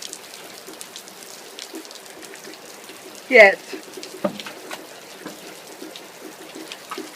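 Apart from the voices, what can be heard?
rain falling outside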